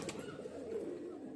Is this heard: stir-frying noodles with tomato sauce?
no